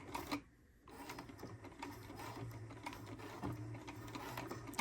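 A sewing machine stitching elastic on a wireless bra, a quiet, steady mechanical whir with rapid needle ticking that briefly pauses near the start, then runs continuously.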